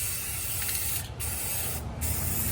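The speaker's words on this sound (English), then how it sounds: "Just spray your wire" Spray paint hisses steadily from a can onto a wire at close range, a dense continuous spray broken by two short pauses, with no talking.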